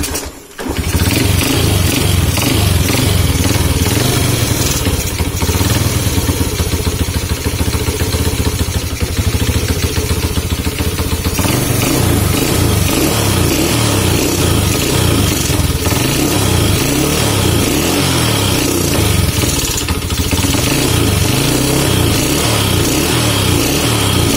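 A Honda C70 motorcycle engine with a piston cut down by 0.2 mm starts and then runs on at a loud, close, steady clattering beat for the rest of the clip.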